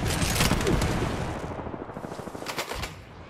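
Kraber sniper rifle shots in an Apex Legends-style shooter, loud sharp cracks with ringing tails, a burst at the start and another cluster toward the end, with no talk over them.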